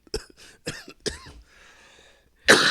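Several sharp coughs in quick succession, close and dry, followed after a short pause by a louder, harsher cough.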